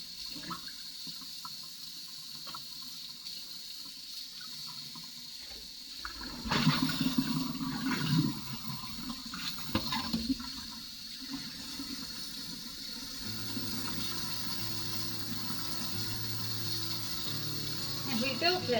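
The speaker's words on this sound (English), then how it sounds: "Okay, I'm gonna wash my hands." Running tap water while someone washes their hands, heard at low level as a steady rushing splash that starts partway through, with faint sounds around it.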